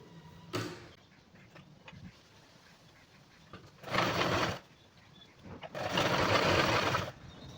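Sewing machine stitching a blouse, running in two sustained bursts of a second or more separated by quiet pauses with faint handling clicks, close and moderately loud, with no voices.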